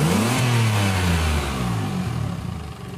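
Car engine revving hard with a Type S turbo blow-off valve, a loud close rising and falling mid-pitched roar that eases toward idle, with a faint whooshing release mixed in.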